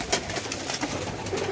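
Pigeons cooing steadily nearby, soft throaty calls repeating over a constant background hum.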